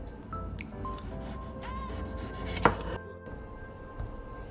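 A knife chops through red sweet pepper on a cutting board while making a Jamaican potato salad, with one sharp, close cut standing out among soft knocks and handling noise.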